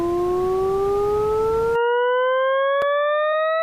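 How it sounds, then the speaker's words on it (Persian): Synthesized tone tracing the graph of y = x: a steady electronic pitch glides slowly and evenly upward for about three and a half seconds, hissy noise under the first half, then clean with a brief click near the end. "مثلا این صدای تابع y مساوی xه"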